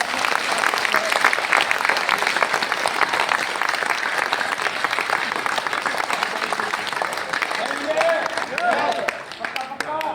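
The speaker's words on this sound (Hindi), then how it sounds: "कितने लोग सपने लिए जबरदस्त ताली बजाओ" Loud, sustained applause from a large motivational-seminar audience, dense clapping filling the whole stretch and easing slightly near the end, with a few voices mixed in.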